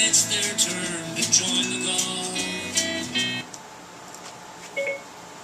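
Tones and beeps from a paired phone's voice assistant play through the original radio of a 1963 Chevy C10, a quick series of electronic blips that stops abruptly and leaves near silence with one faint late beep.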